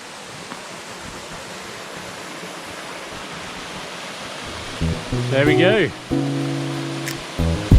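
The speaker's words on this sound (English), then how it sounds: "Linhope waterfall. Beautiful." Linhope waterfall in Northumberland gives a steady, rushing roar of falling water throughout, with voices talking over it in the second half.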